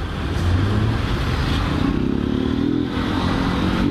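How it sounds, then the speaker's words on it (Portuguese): Car engine revving hard as it accelerates on the road to block an overtake, loud and close, with a sustained rising roar and road noise throughout. "O cara acelerou pra mim não passar"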